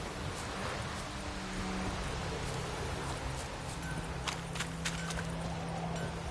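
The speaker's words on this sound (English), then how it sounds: "It's raining, it's pouring, and Fromir's snoring." Steady, dense rain in The Witcher 3: Wild Hunt video game hissing over a low rumbling background, with a few faint clicks and knocks scattered through.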